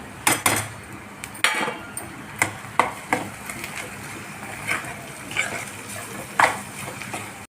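Chillies and spices being sautéed in a pan while cooking dried jawla shrimp: sharp metallic clinks and scrapes of a utensil against the pan at irregular intervals over a quiet background, close by, with no talking.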